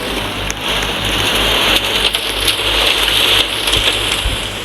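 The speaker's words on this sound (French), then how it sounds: "il pleut pas mal, hein." Steady rain falls in the tornado video game Tornado, a dense continuous hiss with scattered drop and splatter ticks, fairly loud and unbroken throughout, with no talking over it.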